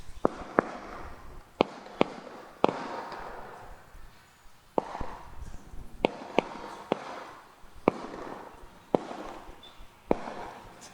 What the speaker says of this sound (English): It's hard to concentrate with all these firecrackers going off.